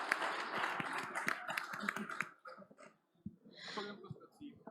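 Audience clapping after a startup pitch at a Hamburg transport-technology event, a dense burst of applause for a couple of seconds that thins out into scattered claps and quiet, with a voice talking faintly.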